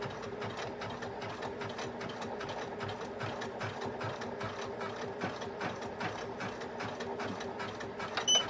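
A Poolin EOC06 sewing machine stitches end-to-end quilting on fabric, its needle mechanism chattering in a fast, steady, even rhythm throughout, moderately loud and close.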